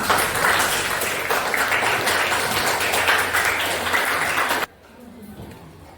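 A class of students claps together for several seconds, a loud, lively burst of applause that stops abruptly, leaving quiet room tone.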